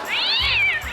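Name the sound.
cat meowing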